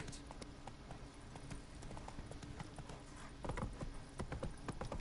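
Hooves of Roach, the horse in The Witcher video game, drum in a quick, steady galloping clip-clop at moderate volume, getting a little louder toward the end, with no voices over them.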